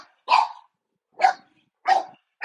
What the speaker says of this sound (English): All right, my dog is going crazy.